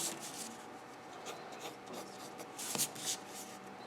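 Pencil sketching on paper at a workbench, a steady soft scratching rasp of graphite strokes running throughout, close and fairly quiet, with a few brief louder strokes near the end.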